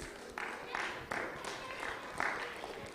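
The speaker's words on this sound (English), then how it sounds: "So everyone clap for Glennis." An audience at a wellness seminar and health expo bursts into brief, steady applause for a singer, a soft wash of many hands clapping with voices mixed in.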